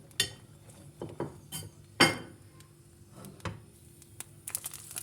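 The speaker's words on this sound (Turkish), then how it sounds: "Sonrasında biberlerimi tavama aktarıyorum." Peppers are tipped from a bowl into a frying pan with oil, producing a few sharp metallic clinks and clatters of utensil against pan, spaced irregularly over a quiet background.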